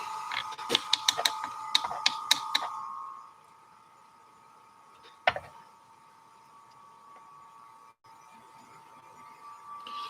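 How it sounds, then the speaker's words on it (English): An airbrush compressor for painting miniatures starts with a quick burst of ratcheting mechanical clicks, then settles into a steady, fairly quiet hum. One sharp knock stands out partway through. "we're going to crank on the compressor"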